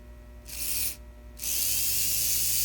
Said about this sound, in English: want to apply power to the motor and see if anything happens